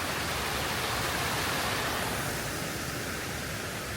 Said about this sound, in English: there's just rivers going into waterfalls like over there